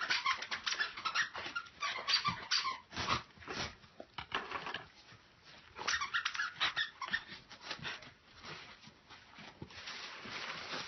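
A dog whimpers and squeaks in repeated high, whiny bursts, close and fairly loud, at a Christmas gathering, with no talking.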